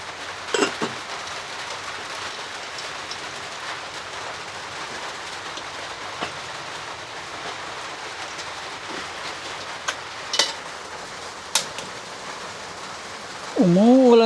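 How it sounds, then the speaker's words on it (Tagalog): Steady rain falls without pause on a flooded, muddy mini farm, a continuous wash of drops with a few sharper splashes and knocks, and a brief animal or voice-like sound near the end. "Walang tigil ang ulan."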